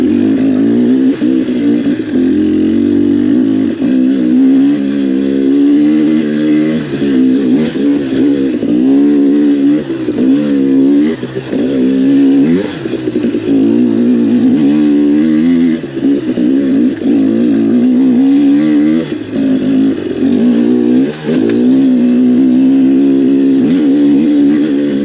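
A dirt bike engine drones steadily for the whole stretch, its pitch rising and falling with throttle changes while riding the Timberline to Hillerton 50-inch ATV trail in Taylor Park, Colorado. The engine is loud and close, with no talking.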